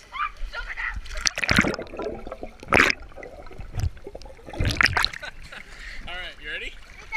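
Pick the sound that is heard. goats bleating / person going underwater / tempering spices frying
person going underwater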